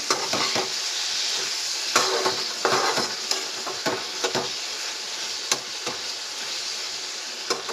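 Potatoes frying in a pan for Telugu-style aloo fry, a steady close sizzle with repeated scrapes and clinks of a spoon stirring against the pan, no talking.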